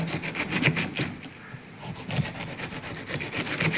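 A knife scrapes and cuts away pineapple skin in a home kitchen while preparing iftar juice: repeated rasping, sawing strokes in a steady rhythm, close and moderately loud, with no talking.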